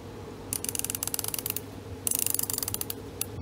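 Rapid ratcheting clicks from turning the adjustment turret on an Artemis CP2 airgun sight, two close runs of crisp mechanical clicks separated by a short pause.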